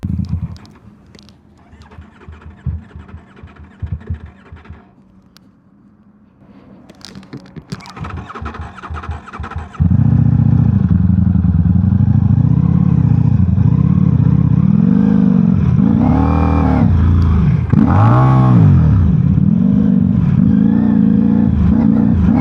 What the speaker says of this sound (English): My bike's turning on.